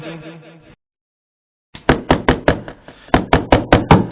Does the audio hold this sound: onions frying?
no